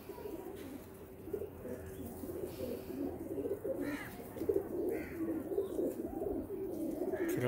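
Soft, rolling coos from golden pigeons fill a keeper's loft, several birds calling over one another in a steady murmur with light chirps mixed in, close and continuous for the whole stretch.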